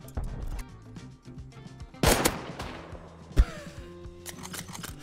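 Gunfire in the survival game Rust, with bursts of shots across a busy in-game soundscape, a loud sharp crack near the middle and another later, other game sounds mixed in and no talk.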